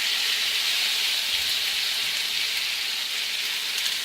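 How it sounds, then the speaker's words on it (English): Tomato pieces sizzle loudly in a hot frying pan for a tomato and egg dish, a steady, dense crackling hiss that holds evenly close up throughout. "So the sizzling is the best sound you can hope for."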